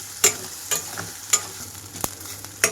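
Meal maker soya chunks fry in hot oil, a soft continuous sizzle with a few sharp clicks and scrapes of a spatula against the pan, fairly quiet and close.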